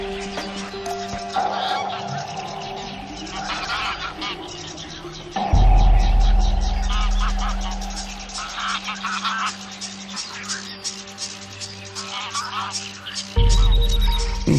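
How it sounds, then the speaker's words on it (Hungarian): Loud honking bird calls ring out outdoors, goose-like and repeated, with a low hum running underneath and a person talking over parts of it. "Mintha a madárhangokat is hallanék."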